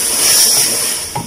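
Blended tomato poured into a hot pan for stuffed grape leaves, a loud, steady broad sizzle and hiss close up, fading slightly toward the end.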